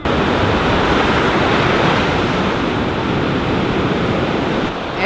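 Continuous loud surf at Cocoa Beach on the Atlantic coast, a steady roaring wash of breaking waves with wind noise across the microphone and no talking.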